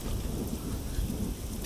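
Rain in a film scene: a dense, steady wash of falling rain with low thunder rumbling underneath, fairly close and continuous through a brief stretch with no voices.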